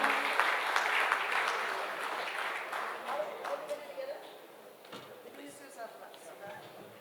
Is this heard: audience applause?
yes